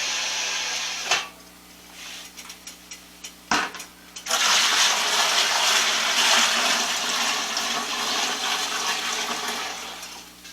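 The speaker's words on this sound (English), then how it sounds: "So we're just going to pour it back in the bucket." Dissolved sugar syrup for watermelon wine is poured into a bucket, a near, rushing stream of liquid that follows a few brief clunks and keeps flowing steadily for about six seconds before tapering.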